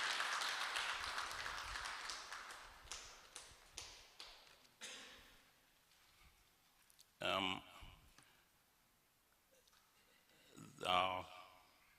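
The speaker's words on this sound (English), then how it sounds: "A bigger round of applause for our president." An audience at a school Founders Day lecture claps for its president: a loud burst of applause that thins into scattered claps and fades, followed by brief bursts of speech.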